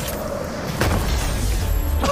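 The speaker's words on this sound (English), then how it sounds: "He just like exploded in front of you" A Fortnite explosion in the middle of a match goes off as a sudden loud boom with a rumbling tail and a short crash, standing alone with no talk.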